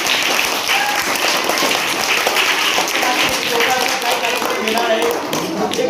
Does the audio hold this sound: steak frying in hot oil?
no